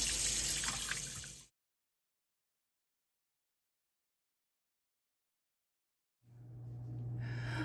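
Cold tap water runs steadily into a sink, then stops abruptly, and after several seconds of silence the flow starts again with a gushing hiss while emu eggs are peeled.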